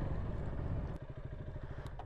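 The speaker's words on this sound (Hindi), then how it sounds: "अपनी बाइक को हम बिल्कुल पास लेके जा रहे हैं" A motorcycle on a Spiti Valley mountain trip rides close by, its engine giving a loud rough rumble that shifts to a rapid, even putter in the second half.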